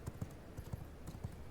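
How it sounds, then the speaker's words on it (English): Hooves of a horse mount in the video game V Rising clip-clop at a steady trotting pace, a handful of soft thuds repeating evenly, moderately close, with no talking. "Now let's just call her horse."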